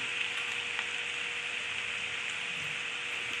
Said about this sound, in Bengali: আদা আদা ভেজে নিলাম।